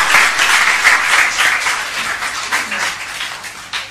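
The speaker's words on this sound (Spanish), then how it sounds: "Un aplauso" A magic show audience applauds a volunteer coming up on stage, with loud, close, continuous clapping that gradually eases off.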